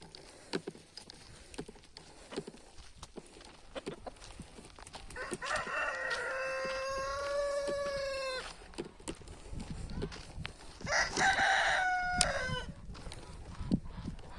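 Roosters crow twice among free-range chickens at a farmyard coop, one long harmonic call and a shorter second one, with hens clucking softly and scattered thumps and knocks around them.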